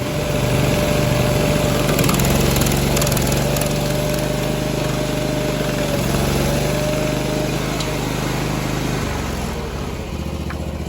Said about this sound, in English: we're going to grind down this part of the stump to as deep as we want it